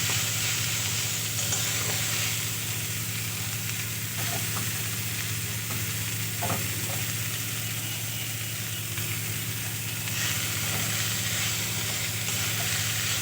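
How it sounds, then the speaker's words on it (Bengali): Mustard greens frying with garlic and green chilli in a pan, a steady close sizzle and hiss with occasional stirring scrapes, continuing evenly without any talking. "এভাবে করে শাকগুলো ভালো করে ভাজা ভাজা করে নেব"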